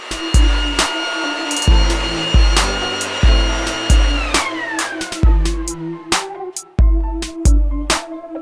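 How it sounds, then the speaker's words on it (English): A blow dryer runs in short repeated bursts over an Audi R8 car hood being cleared of dust before vinyl wrapping, its loud whine starting and stopping roughly every half second to second, with scattered clicks and thumps between bursts. "We're going to blow dry this whole thing, make sure there's no dust on it."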